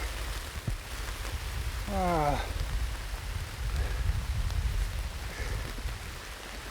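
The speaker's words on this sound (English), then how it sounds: "my God, it's absolutely pouring." Heavy rain pours down on a hiking trail along the Nepisiguit Trail, a constant hissing wash close around the listener. A person briefly exclaims partway through.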